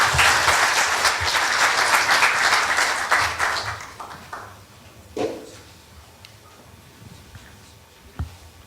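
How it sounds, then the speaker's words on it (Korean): A forum audience in Seoul welcomes a speaker with applause. The clapping is full and lively for about four seconds, then thins out to a few scattered claps and small room noises. "박수로 환영해 주시면 대단히 감사하겠습니다"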